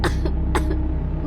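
A young girl coughs in a quiet room at night, a quick series of about four harsh, close coughs in little more than a second.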